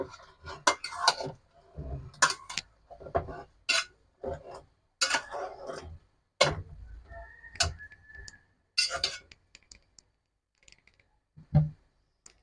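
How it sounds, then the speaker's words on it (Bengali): Beef curry being stirred in a cooking pot, with a series of separate clanks and scrapes of a utensil against the metal in an uneven rhythm, close and fairly loud, with short quiet gaps between and no speech. "এখন একটু নাড়াচাড়া করে দিব, কারণ আমি একটা নাড়াও দিই নাই।"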